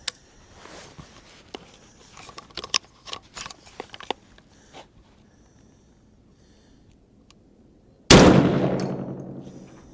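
A 350 Legend rifle firing a Barnes TSX solid copper bullet gives one loud, sharp report with a ringing decay, coming after several seconds of scattered light clanks and handling noises.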